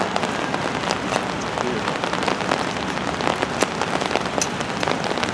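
Steady rain patters on a hard surface, dense and continuous, with sharper drops ticking through the hiss.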